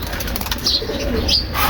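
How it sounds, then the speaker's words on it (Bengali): Pet pigeons in a home loft, heard as a short stretch of close bird sound with soft cooing over a steady, noisy background and a faint rustle of wings. "তো এই হচ্ছে আমার কয়েকটা কবুতর"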